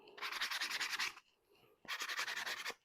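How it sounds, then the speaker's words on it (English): A power sander scuffs the metal of a Mathews LowPro bow quiver to prepare it for self-etching primer. Two close, steady buzzing bursts of about a second each are split by a brief lull. "hit this guy with the sander"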